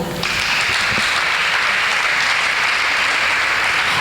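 A church congregation at a prayer service breaks into loud, sustained applause that swells quickly and holds steady, with faint voices mixed in.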